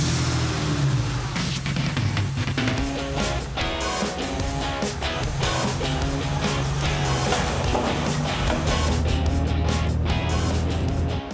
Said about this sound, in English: I really enjoyed our car ride